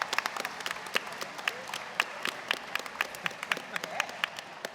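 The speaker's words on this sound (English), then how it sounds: "We have a round of applause, please." Studio audience applause at a live Witcher tabletop role-playing game session, a steady patter of many hands clapping at moderate distance, sustained through the whole stretch with scattered sharper claps and faint voices underneath.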